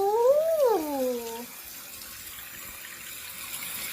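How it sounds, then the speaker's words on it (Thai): After a brief exclaiming voice, water rushes steadily into a toilet tank through a newly replaced fill valve, a soft, even hiss that continues alone. "เราก็ลองเปิดน้ำดูนะคะ"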